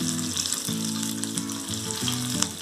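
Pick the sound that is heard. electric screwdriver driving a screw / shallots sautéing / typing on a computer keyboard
shallots sautéing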